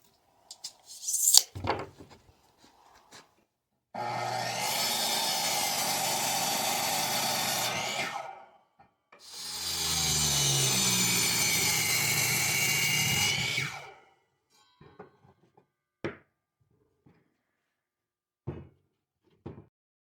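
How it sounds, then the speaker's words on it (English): A table saw cuts tenons in thick laminated oak with two long, loud, whining passes of several seconds each, framed by scattered knocks and clicks of handling the wood. "I'm using my table saw to cut the tenons"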